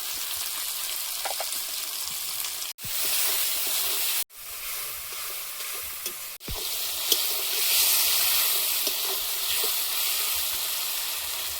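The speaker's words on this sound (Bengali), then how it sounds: "তেলের মধ্যে দিয়ে দিচ্ছি কালো জিরে টমেটো কুচি" Nigella seeds and chopped tomato sizzle in hot oil, a steady bright frying hiss that swells louder toward the end, broken by a few brief cuts.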